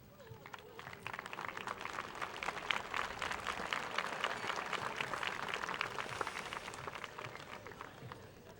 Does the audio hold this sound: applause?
yes